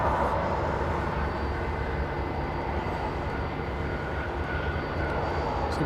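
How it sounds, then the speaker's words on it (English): A Singapore Airlines Airbus A350-900 jet passes high over downtown Los Angeles near LAX, a steady, loud, broad engine roar that holds evenly for the whole stretch. "So we got a Singapore A350 over downtown LA."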